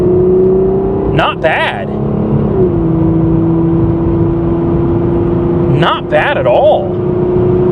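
A 1988 Chevy Cavalier Z24 engine hums steadily from inside the car as it accelerates, a constant drone under a voice in two short bursts.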